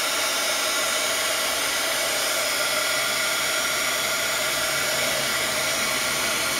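A heat gun blows steadily and loudly at close range, melting embossing powder on an artist trading card, a constant broadband hiss with no pauses or talk.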